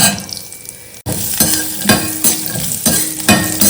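Cashews, garlic and whole spices sauté in a pan with a steady sizzle, and a spoon scrapes through them in repeated strokes with light metallic clinks after a brief sharp break.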